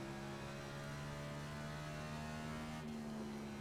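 A NASCAR Next Gen car in iRacing holds full throttle, a steady droning engine tone that rises slightly near the end, quiet and unbroken by any talk.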